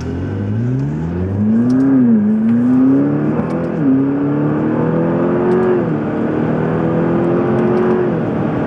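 McLaren MP4-12C accelerating hard in normal mode with manual gear changes: a loud, close engine note climbs steadily, dipping briefly at each upshift before rising again.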